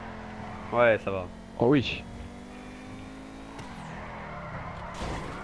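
A Pegassi Osiris supercar drifting in GTA 5, its engine droning steadily with a faint tire swish, while someone speaks briefly over it near the start.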